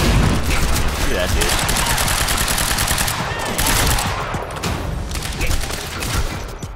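Rapid automatic gunfire from the shooter video game Quantum Break, dense bursts of shots running almost continuously at close range with a voice talking over parts of it.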